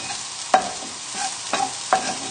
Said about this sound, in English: There, it's starting to sizzle now